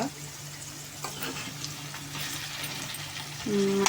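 Drumstick and potato pieces fry in a pan for an eggplant curry, giving a steady soft sizzle with occasional stirring scrapes, and a short tonal clink near the end.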